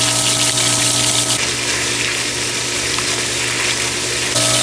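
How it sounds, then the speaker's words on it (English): A pool sand filter pump runs steadily during backwashing, pushing dirty pool water through with a constant loud whooshing gush and a low mechanical hum, no voices. "All the dirty water that's in the pool is backwashing."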